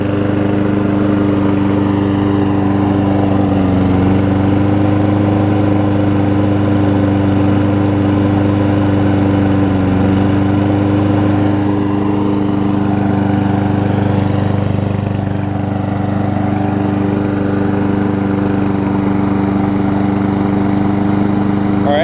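A Lawn Boy push mower engine idles steadily up close with a loud, droning hum, its pitch wavering slightly now and then as it hunts.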